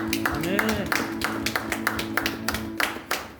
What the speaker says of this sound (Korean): 감사의 박수 올려드리며 나갑시다